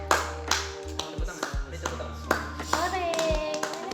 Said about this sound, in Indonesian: Coba tepuk tangan dulu.